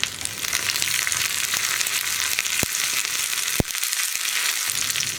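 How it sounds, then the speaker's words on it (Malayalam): Onions and curry leaves frying in oil in a pan, a loud dense crackling sizzle running steadily with a couple of sharp knocks from stirring near the end. "ഇതിങ്ങനെ ഒന്ന് ഇളക്കി കൊടുത്തുകൊണ്ടിരിക്കുക."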